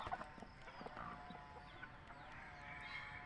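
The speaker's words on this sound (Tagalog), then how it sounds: "Manok yan mga lods, dalawa ang ulo, iisa lang ang katawan." A two-headed chicken clucks softly and intermittently at a farm, several short faint calls over a quiet background.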